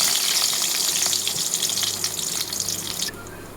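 Bay leaves and chopped onion sizzle in hot oil in a kadai, a steady loud hiss and crackle that fades slightly near the end.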